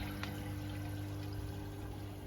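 Water from a koi pond's bottom drain running steadily through pipework feeding water butts, a quiet continuous trickle under a constant low pump hum.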